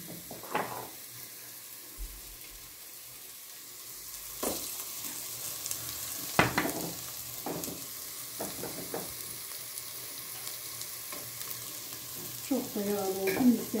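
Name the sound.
butter added to a sizzling pan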